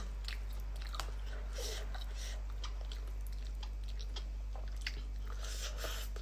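Someone chews German pork crackling up close, with quiet crisp bites and crunches scattered throughout over a low steady hum, and a faint voice now and then.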